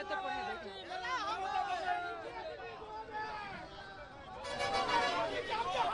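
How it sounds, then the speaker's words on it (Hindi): Dense crowd noise and chatter at a busy political rally, a steady loud babble with a reporter's voice talking over it throughout. "शोर बहुत है, भीड़ बहुत है।"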